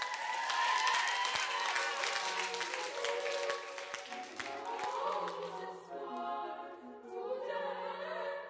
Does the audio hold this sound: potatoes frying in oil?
no